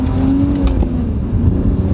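A BMW E46 ZHP with a manual gearbox pulling out and accelerating on the road, its engine a loud, steady drone heard from inside the car.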